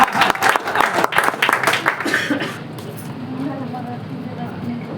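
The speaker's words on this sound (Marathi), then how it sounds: "जोरदार टाळ्या" An indoor audience at a business training event breaks into loud applause that fades away after about two seconds. The room then settles into a quiet murmur.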